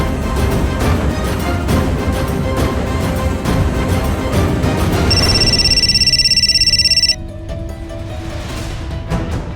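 A telephone rings at home in a Hindi drama, its shrill repeating electronic tone loud and close for a couple of seconds before cutting off, with background music playing before and after.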